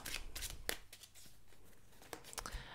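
A deck of tarot cards is shuffled close by, with a series of sharp riffling bursts and soft sliding in between, quiet and alone.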